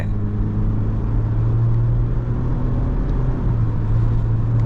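Ford Ranger Wildtrak 2022 pulling hard at full throttle from 80 to 120 km/h, a steady loud engine drone and road rumble heard from inside the cabin, holding a constant low tone throughout with no talk.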